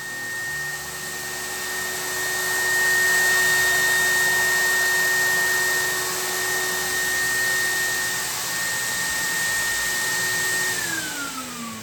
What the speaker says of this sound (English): Since I don't have a mini air compressor, I connect it to a vacuum cleaner instead.